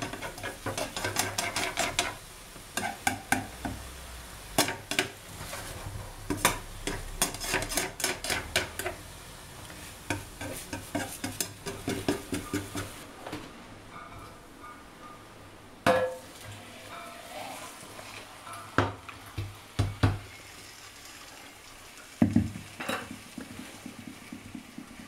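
A vegetable tortilla cooks slowly in a pan over low heat, giving soft irregular scraping and tapping as it is stirred and moved, with quieter gaps and occasional clinks of utensil against pan.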